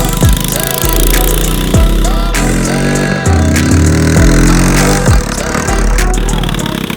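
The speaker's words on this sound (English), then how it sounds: "try riding the track on the 3-wheeler for the first time" A three-wheeler engine revs loudly and continuously while riding a dirt track in a front yard, with rising and falling throttle surges and periodic sharp bumps, close and unbroken throughout.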